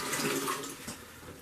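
Water pouring steadily into the reservoir of a Varikettle instant hot water dispenser, a continuous close splashing rush that eases slightly in level partway through, heard alone.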